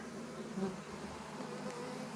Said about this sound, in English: Random drunken bee here and there.